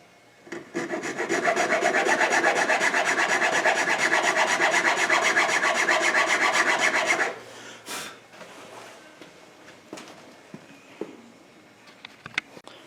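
Sanding of wooden scales for a modified ESEE Izula knife handle, a steady dense rasping rub lasting about six seconds, then stopping and giving way to quiet scattered handling clicks and taps.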